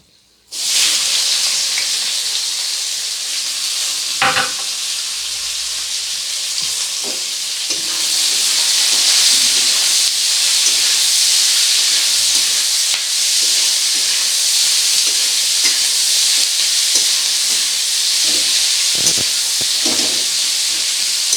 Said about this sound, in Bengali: পেঁয়াজটাকে খুব ভালো করে লাল লাল করে ভেজে নিতে হবে